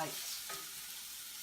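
Meat sears in a pot with seasoning and low-calorie cooking spray for a one-pot goulash, a soft, steady sizzle with faint stirring scrapes, fairly quiet.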